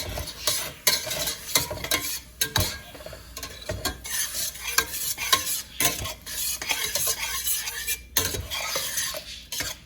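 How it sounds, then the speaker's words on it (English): A metal spatula scrapes and stirs salted vegetables in a hot pan, with steady clattering scrapes and a constant sizzle close by, no voices. "I'm going to start with this metal spatula"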